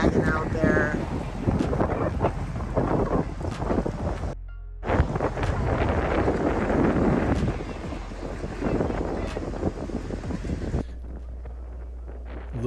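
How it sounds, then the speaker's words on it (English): Strong wind buffets an outdoor microphone at a live street event in Fresno, California, producing loud, rumbling gusts that rise and fall continuously, briefly cutting out and then easing to a lighter roar near the end. "Really windy."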